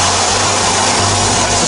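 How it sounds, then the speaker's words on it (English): A tire bead is broken off its rim at a Ford tire service shop in Beaverton, Oregon, giving a loud, steady hissing rush, much like escaping air, that holds constant throughout with no clear separate pops. "That's the sound of the bead being broken."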